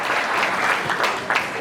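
An audience at a Kwanzaa community gathering bursts into loud, dense applause, a continuous wash of many hands clapping close by for the whole moment.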